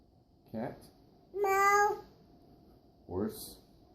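A young child imitates a cat's meow while practising animal sounds with an adult: one drawn-out, tonal, rising-then-falling voiced cry in the middle, with brief bursts of adult speech before and after it.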